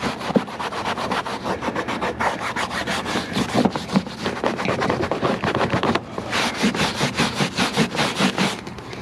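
A scrub brush works vigorously over a dirty car interior surface after a cleaner spray, giving loud, close, rhythmic back-and-forth scratching strokes with a short pause midway.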